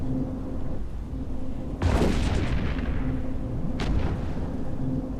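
Turret fire from a rusty Minmatar Stabber Fleet Issue cruiser striking an enemy Caracal Navy cruiser in EVE Echoes PvP: two sharp booming impacts, the first heavier with a long decaying rumble, the second shorter, over a steady low game hum.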